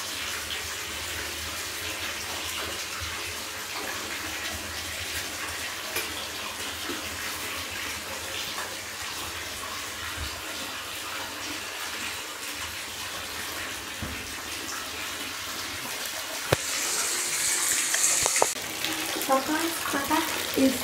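Water runs steadily from a tap into a bathtub being filled for a muscle soak, a continuous even gush with a brief change in splash near the end.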